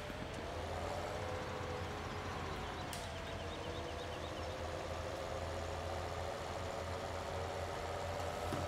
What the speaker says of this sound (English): Come on, tractor, start up.